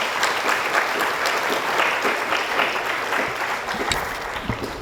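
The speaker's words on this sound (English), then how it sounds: "all of them certainly deserve another round of applause for everything that they have done." Audience applause at a formal event, a dense wash of clapping from many people that holds steady and begins to thin slightly toward the end, with no talk over it.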